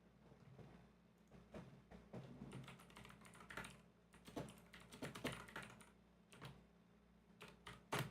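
Fingers tap at a computer keyboard in a quiet room: a steady, fairly faint patter of keystrokes with a few slightly louder clacks, and nobody speaking.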